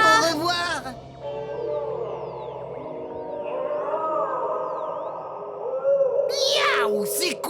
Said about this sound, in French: Des narvals, capitaine.